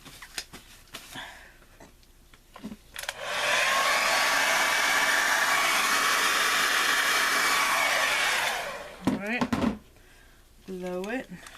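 A hair dryer blows steadily for about five seconds to dry paint on a 20x20 canvas, loud and close, with brief clatter and talking before and after.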